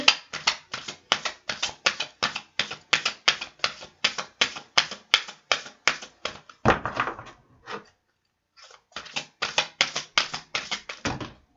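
Tarot cards being shuffled, a rapid run of crisp, close riffling bursts with a short pause before the shuffling resumes.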